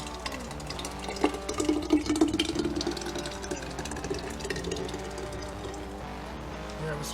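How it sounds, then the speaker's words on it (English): Green seasoning is poured into a large canning jar, giving a wet, gurgling, sloshing pour that is loudest early on and trails off, with a faint voice under it. "Pour it in."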